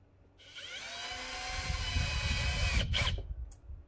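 A cordless drill drives a countersunk screw through plasterboard into a timber batten, a steady high whine for about two and a half seconds that ends in a few short bursts as the screw head seats, close and loud.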